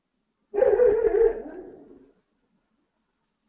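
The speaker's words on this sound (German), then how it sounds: "Das ist übrigens nicht mein Hund, das ist der Nachbarshund." A young dog next door gives a single drawn-out bark that trails into a howl, fairly close, then silence follows.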